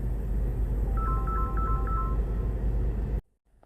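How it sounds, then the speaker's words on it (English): Electronic phone ringtone for an incoming call, a short repeating melodic pattern of beeps playing for about a second over steady road or engine hum before cutting off abruptly. "oh, I'm getting a phone call."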